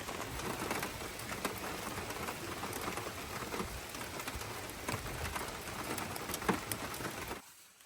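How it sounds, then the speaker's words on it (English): Heavy rain pours steadily on a campsite in a dense, continuous hiss with scattered drops spattering nearby, then cuts off abruptly near the end. "the rain is definitely raining way harder"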